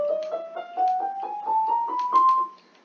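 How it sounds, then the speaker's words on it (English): Single piano notes climb an ascending chromatic scale one semitone at a time, evenly paced and fairly quiet, in a dry, isolated setting with no voices. "So ascending chromatic scale sounds like this."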